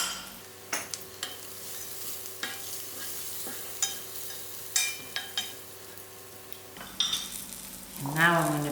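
Lamb chop masala with chopped spices cooking in a pan, a low steady sizzle broken by repeated scrapes and clinks of a utensil stirring, close up, with a brief louder rustle near the end.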